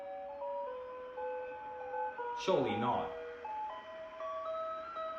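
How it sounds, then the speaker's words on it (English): An ice cream truck's jingle plays from outside, a bright tinkling melody of stepped notes that carries on steadily throughout, with a brief burst of talk over it midway. "What are the odds of the ice cream truck coming around as we're doing this video?"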